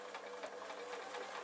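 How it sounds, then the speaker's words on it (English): A sewing machine stitches a seam through two layers of taffeta for a curtain, with a brief, steady, rapid mechanical whirring and ticking close by and no talking. "I'm going to begin sewing"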